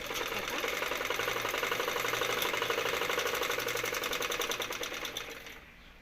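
A sewing machine stitches a blouse, running as a steady, close, continuous mechanical whir with a fast rhythmic needle chatter for about five seconds before slowing to a stop.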